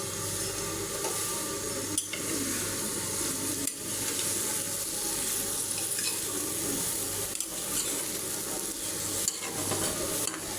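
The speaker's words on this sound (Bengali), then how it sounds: "এটা 5 থেকে 6 মিনিট শুটকিটা আমি ভালো করে কষিয়ে নেব" Dried fish (shutki) stir-fried in a pan with green chillies, a continuous close sizzle under regular scraping strokes of a spatula and a few sharp knocks against the pan, with no speech.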